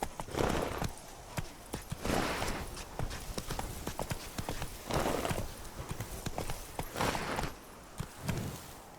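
Hooves of a horse in The Witcher 3 clip-clop in a quick, steady gallop at close range, with rhythmic bursts of impacts and no talk over them.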